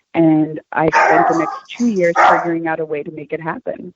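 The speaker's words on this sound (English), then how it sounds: "I am so sorry. That is my dog." A pet dog barks and yips in quick bursts close by, overlapping with someone talking throughout.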